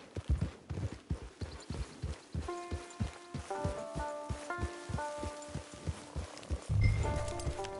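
Horse hooves clip-clop at a steady walking rhythm in the Western video game Red Dead Redemption II, fairly quiet, with soft musical tones rising behind them near the end.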